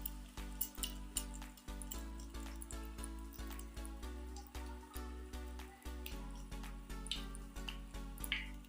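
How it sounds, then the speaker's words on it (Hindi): Potato cutlets coated in gram flour fry in a pan, giving a quiet, steady crackle and pops with rhythmic drip-like spatters, alone without talk. "अब एक एक करके कबाब फ्राइंग पैन में डालेंगे।"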